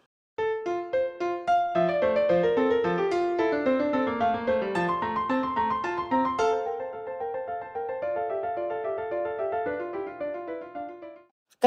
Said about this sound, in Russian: вот как звучит его 8-я инвенция фа мажор